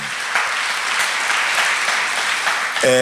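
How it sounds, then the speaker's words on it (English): An audience claps steadily and loudly throughout, acknowledging Dr. Phaswa at the 5th King Moshoeshoe Memorial Lecture, with a tonal sound entering just at the end. "Another round of applause for Dr."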